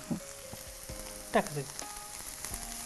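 Grated coconut, half a cup, dropped into hot spiced tempering for a stuffed chicken dish, giving a low sizzle with a few soft clattering stirs and a brief louder scrape midway, close and steady with no talk.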